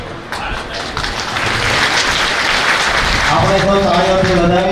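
Crowd applause welcoming Morari Bapu at Danev Ashram, a dense wash of many hands clapping that swells and holds steady, with a voice speaking over it near the end.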